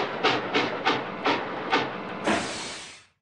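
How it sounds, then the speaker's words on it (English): Toy train set in a Curious George counting video game, a series of five rhythmic hissing chuffs followed by a longer steam-like hiss that fades out, clear and alone. "George is playing with his train sets."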